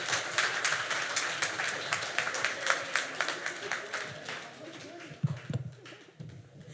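An audience at a Toronto storytelling night claps for a speaker, a fairly close, brisk patter of applause that thins out and trails off into a few scattered claps.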